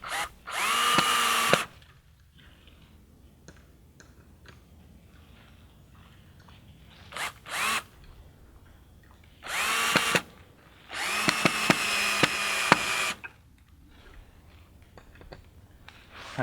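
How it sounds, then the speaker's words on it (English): Cordless drill driving screws into plastic while mounting a solar spot light, several short whirring bursts separated by pauses, close and fairly loud, with quiet handling noise in between. "My drill is about dead."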